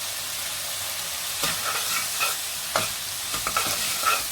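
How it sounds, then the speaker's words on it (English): Chili flakes go into paneer frying over high flame in a kadai, a steady close sizzle with a few sharper bursts as the spatula stirs. "Now we're going to add some chili flakes."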